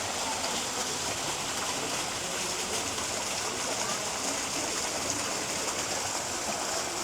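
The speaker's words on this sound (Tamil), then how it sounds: "பார்த்தாலும் வாட்டர் ஃபால்ஸ் தான்" Waterfall at a butterfly park in Kuala Lumpur, Malaysia, giving a steady, continuous rush of falling water that fills the whole stretch at an even level.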